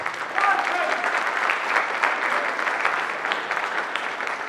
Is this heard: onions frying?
no